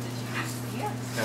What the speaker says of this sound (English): You're a bad dog.